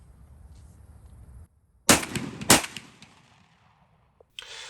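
A Garaysar FEAR-116 shotgun fires with full-power ammunition, giving two loud sharp blasts close together, each followed by a ringing decay, with quieter handling clanks before and after.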